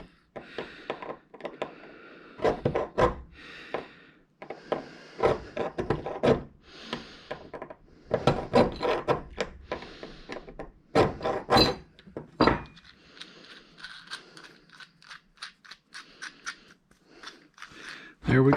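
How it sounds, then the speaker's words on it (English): A hand file rasps a burr off a part while building a CNC router table, with short scraping strokes in irregular bursts. They come close and fairly soft, with a person talking between them. "I'll just file that down and hopefully get rid of that burr"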